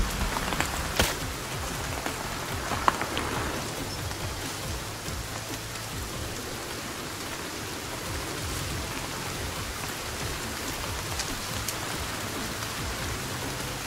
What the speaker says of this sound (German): Im Regen.